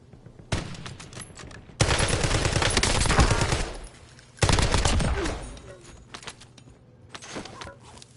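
Video game gunfire comes in sustained automatic bursts, loud and close, separated by short quieter gaps, with sharp onsets and a few lighter clattering sounds between volleys.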